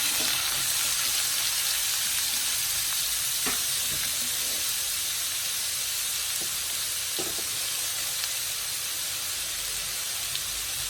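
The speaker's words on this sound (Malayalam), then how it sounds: "ഇതിൽ സവാള മൂന്നെണ്ണം അരിഞ്ഞു വെച്ചത് ഇട്ട് കൊടുക്കാം" Three sliced onions frying in a pan for a rajma dal curry, making a continuous loud close sizzle and hiss with a few faint scraping stirs over the top, no voice.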